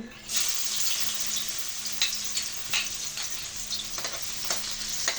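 Garlic dropped into hot oil in a wok bursts into a loud, steady sizzle, with sharp crackles and spatters throughout and no speech.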